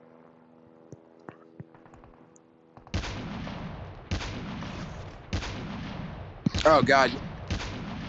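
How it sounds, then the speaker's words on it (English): Heavy gunfire in a battle royale video game: several loud booming shots roughly a second apart, with a sharper crackling burst near the end, after a quiet stretch with brief talk early on. "We got gunshots at 275."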